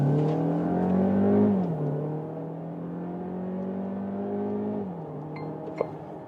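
A car with a 1.5 TSI mild hybrid engine accelerates in sport mode, its hum climbing in pitch, easing back, then rising again at a moderate level with no speech.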